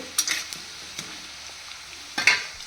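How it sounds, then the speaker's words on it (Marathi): Sabudana vada deep-frying in oil over a low gas flame, a faint steady sizzle punctuated by a few brief louder crackles and clinks near the start and end. "कमी गॅसवर छान असा खमंग तळून द्यायचा आहे तेलामध्ये"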